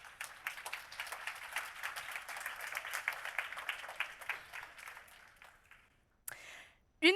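An audience at an awards ceremony applauds for several seconds, moderately loud and even, then the clapping dies away into near silence before a couple of brief noises at the end.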